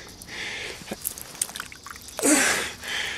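Muddy water seeps and trickles into a small hole dug about six inches into the ground outdoors, a soft wet dribble with a few drips and a brief louder splashy gush near the end.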